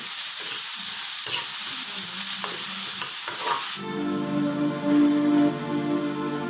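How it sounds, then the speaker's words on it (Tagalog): Ginataang gulay, squash and vegetables in coconut milk, is stirred in a pan, with scraping and bubbling over a simmering sizzle that becomes a steadier hiss partway through, and no voices. "i-mix ko tong ginataang gulay"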